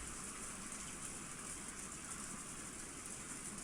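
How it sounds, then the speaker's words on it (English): Steady rain falls over a Japanese garden beside a hallway in the visual novel Higurashi no naku koro ni Kai, an even, faint hiss with no pauses or voices. "It's raining."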